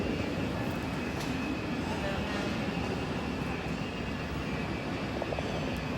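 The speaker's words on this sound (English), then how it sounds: "This plane getting ready to leave." An airplane getting ready to depart gives a steady, broad engine roar that holds at an even level for several seconds.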